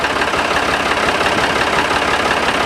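A farm tractor's engine idles steadily before corn planting, a loud, even, low chugging drone with a slightly knocking texture, close by and uninterrupted, no voices.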